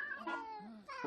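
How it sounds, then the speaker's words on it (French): A cat lets out a drawn-out, whining meow with a rising and falling pitch, close and fairly quiet, heard on its own. "Tu pourrais pas lui dire de se taire à ton chat?"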